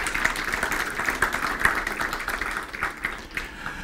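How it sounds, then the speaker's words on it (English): An audience at a coaching conference applauds for France, a steady wash of clapping from many hands at moderate volume for several seconds. "Please applause to France."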